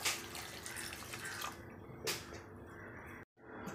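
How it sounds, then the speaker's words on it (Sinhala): Water pours into a cooking pot set over a fire, giving a steady splashing trickle with a brief gap before it resumes, close and fairly loud. "දැන් මේකට වතුර ටිකක් දාන්න යන්න."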